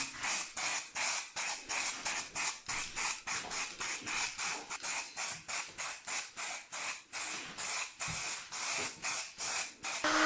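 Spray paint laid as a very light coat on an MBK Booster 70 DR engine case, loud close hissing in short rapid bursts repeated rhythmically with brief gaps, no voices.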